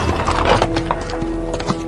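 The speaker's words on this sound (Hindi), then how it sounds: "ऐसा लगा मानो सारे घोड़े दौड़ते हुए गेस्ट हाउस के सामने ही आकर रुक गए थे" Horses galloping as an audio drama sound effect, a busy run of loud, close hoofbeats with a brief whinny, the herd seeming to charge up and stop in front of a guest house.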